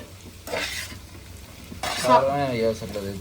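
A spoon stirs a curry with cumin in a pan, giving two scraping sweeps over a soft sizzle, with a brief voice-like sound near the end.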